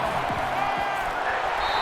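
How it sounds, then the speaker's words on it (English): A stadium crowd cheering and applauding in a college football video game, Central Michigan at Notre Dame, heard as a brief, dense wash of roaring fans with a commentator's voice over it. "This crowd is amazing."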